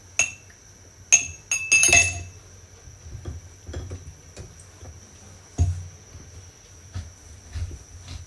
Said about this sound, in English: I'm gonna scoop it into a glass.